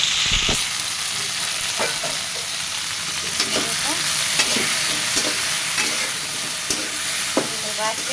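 Okra pieces fry in hot mustard oil with salt and turmeric in a pan, a steady loud sizzle and hiss with occasional stirring scrapes and small pops, no talking.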